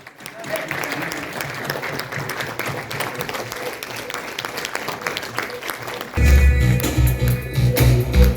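Loud, sustained applause from an audience at a stage event as a group of achievers is called up, dense clapping filling the room for about six seconds before swelling into louder music with a heavy beat.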